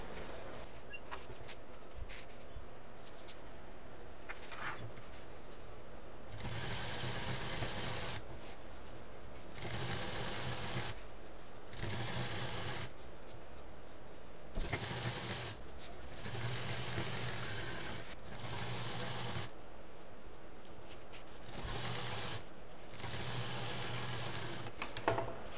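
A sewing machine stitches straight lines through quilted foam and lining, running in steady whirring bursts separated by short pauses, loud and close with no talking.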